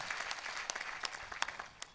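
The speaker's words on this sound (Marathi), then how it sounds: "या सर्व देणगीदारासाठी एकदा टाळ्या वाजवू आपण" Audience applause at a Ramayana discourse, honouring temple donors: a steady wash of many hands clapping together, fairly distant and even, with a few sharper claps standing out over two seconds.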